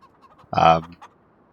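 Chickens in the Farming Simulator farm game, a single short clucking call standing out clearly against a quiet background with a faint second cluck after it.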